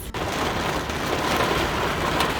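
Heavy rain and hail pouring down on a mountain in Glacier National Park, Montana, a dense, steady hiss of drops drumming on a surface that stays loud and unbroken throughout, with no voices.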